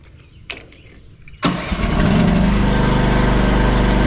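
An AGT QH12R mini excavator's engine is started with the choke on, giving a few quiet clicks and a brief crank that catch into a loud, steady, close-up idle.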